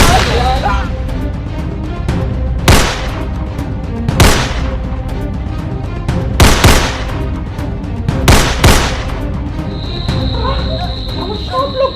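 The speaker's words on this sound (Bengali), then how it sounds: "আমার সব লোক গুলি করে কেন মারলো?" Cartoon gunfire rings out as a series of loud, sharp shots spaced a second or two apart over a busy soundtrack, ending with a sustained high whine.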